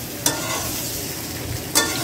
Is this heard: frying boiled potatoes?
yes